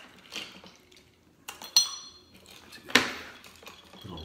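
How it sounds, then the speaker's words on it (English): An ice cube drops into a whiskey glass, giving a few sharp glassy clinks and clatters spaced over several seconds, close and fairly quiet against a hushed room. "I'm gonna throw a piece of ice in mine."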